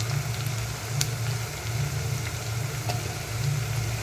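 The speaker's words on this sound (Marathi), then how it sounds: "कांदा छान असं गोल्डन ब्राऊन होईपर्यंत मी चांगला फ्राय करून घेणार आहे" Chopped onion fries in a pan with a pinch of salt, cooking toward golden brown for a Punjabi gravy, giving a steady close sizzle with faint crackles and no voices.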